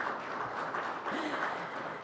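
An audience at a Hall of Fame banquet claps for about two seconds, a soft, fairly distant and steady patter of applause.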